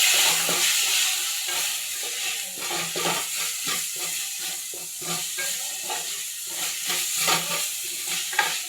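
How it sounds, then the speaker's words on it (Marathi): Noodle-stall style stir-frying with soy sauce, chili sauce, vinegar and ketchup in a hot pan: continuous sizzling and hiss with rhythmic scraping and stirring strokes, moderately close, no talk. "फ्राय करायचं व्यवस्थित."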